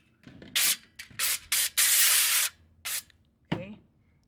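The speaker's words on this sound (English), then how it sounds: "I'm going to spray some oil" Several short bursts of oil spray onto breadcrumb-coated shrimp potato balls before air frying, sharp hissing puffs of varying length with one longer spray in the middle, close and clear in a quiet room.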